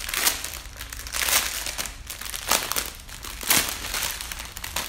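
A golden paper package holding diamond-painting rhinestones crinkles and crumples up close in repeated rustling bursts, with no one talking.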